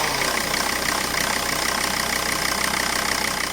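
A car engine idles steadily with a rough, slightly uneven beat as the revs wander, heard up close and alone.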